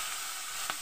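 Chopped onion stalks hit hot oil in a pan where pangas fish has just been fried, producing a short, steady sizzle with one brief clink near the end.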